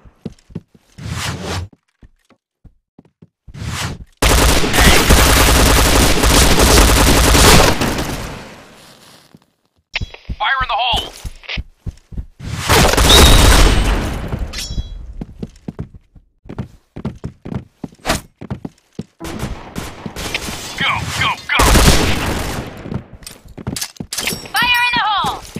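Gunfire in the shooting video game Point Blank, loud bursts of rapid automatic fire in several long volleys with single shots and clicks in between, close and harsh.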